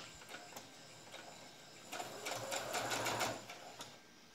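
A sewing machine stitches the cowl neck of a frock, a quiet steady mechanical whir that rises into a faster, louder burst of stitching in the middle before easing off.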